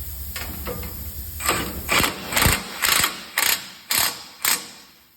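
A ratchet turning a 24 socket to unbolt a shield on a Ford Crown Victoria, Mercury Grand Marquis or Lincoln Town Car, giving a run of loud, evenly spaced clicking bursts up close after softer fiddling.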